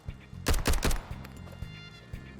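Gunfire in the video game Road to Vostok: a quick cluster of three or four loud shots, followed by fainter scattered pops and rumbling noise, with no talk.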